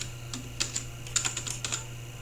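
Password being typed on a computer keyboard, a short run of light, irregular key clicks, close and fairly quiet over a faint steady hum.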